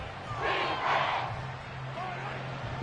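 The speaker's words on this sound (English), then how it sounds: "This crowd doing all they can." A packed stadium crowd roars and cheers during a late-game goal-line play at a pro football game, a broad swelling noise from a distance with a brief louder surge midway.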